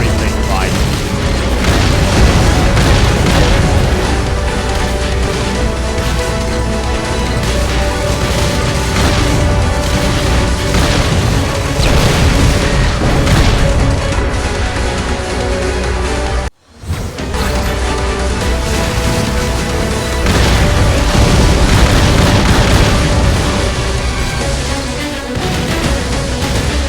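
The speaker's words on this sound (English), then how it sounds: "Raiden has reached the core and will carry out the destruction of the research facility" Continuous booming explosions as a research facility core is destroyed in the shoot-'em-up Raiden V, dense and loud throughout under layered game music and effects, with a brief drop to near silence partway through.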